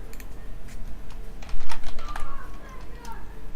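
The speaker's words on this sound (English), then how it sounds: "Also, caps lock is on, and now I'm typing very aggressively." Fast, forceful typing on a computer keyboard with caps lock on, a dense run of sharp key clacks that grows louder halfway through, heard close up during a live building session in a zoo-building game.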